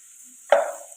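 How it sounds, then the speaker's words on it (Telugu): Potatoes and carrots hit a hot pan with a sudden sharp sizzle that flares up at once and slowly fades, the only sound after a near-silent moment. "ఇలా ఫ్రై అవుతున్నాయి కదండి"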